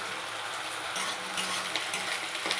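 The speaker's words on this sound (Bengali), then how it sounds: "এই দেখো পেঁয়াজ ভাজছি, এই দেখো আলু ভাজা" Onions and potatoes fry in a pan, a steady dense sizzle with occasional stirring scrapes and clinks, close and alone.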